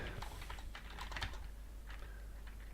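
Someone types code on a computer keyboard, a quick run of light, close key clicks with a short pause near the middle, quiet and without talk.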